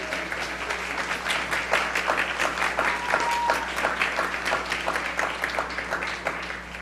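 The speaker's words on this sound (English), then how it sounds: "Let's give these students from Columbus Middle School another round of applause." A room at a school board meeting applauds middle school students, many hands clapping in a sustained, even burst over a faint steady hum, with a brief voice audible partway through.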